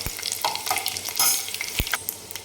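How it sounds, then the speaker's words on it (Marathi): Crushed garlic and cumin sizzle in hot oil with mustard seeds, tempering for a spicy lemon-chilli dish: a steady, close frying crackle with sharp pops and occasional stirring scrapes. "जिरे टाकून आपण ठेचलेला लसूण टाकला आणि याला छान एकदम काही सेकंद आपल्याला परतून घ्यायचं।"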